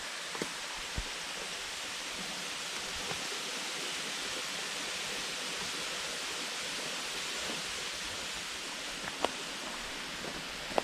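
A waterfall in a Vosges forest gives a steady broadband rush of falling water, continuous and even throughout, with a few faint clicks and rustles on top.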